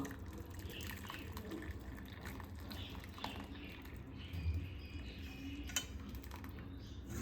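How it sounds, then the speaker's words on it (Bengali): Sugar syrup with saffron is strained in a kitchen, a faint steady trickle and pour of liquid with an occasional soft clink. "রসটা আমি এভাবে ছেঁকে নেব"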